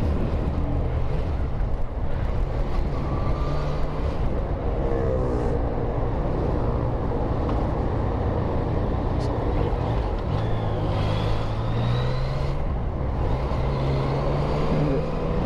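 Dense road traffic surrounds a Yamaha MT-09 motorcycle crawling and filtering through a congested street: a steady, loud blend of car and truck engines with passing vehicles and a brief air-brake hiss, continuous throughout.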